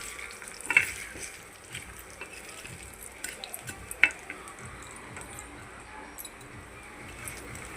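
A tempering of urad dal fries in oil in a pan, a faint steady sizzle with a couple of sharp pops and crackles rising out of it.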